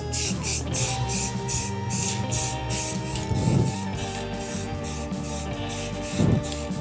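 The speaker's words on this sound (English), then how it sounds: "Next thing I'm gonna do, I'm gonna spray the sides." Spray paint hisses from an aerosol can onto the sides of a brake drum held by hand, in repeated short rhythmic bursts, with a low hum underneath and two louder scuffs.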